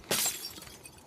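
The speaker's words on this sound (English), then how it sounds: "you break the glass here" A single sharp crash of a glass window shattering in The Last of Us Part II, a bright burst of breaking glass followed by a few faint tinkling fragments, close and fairly quiet.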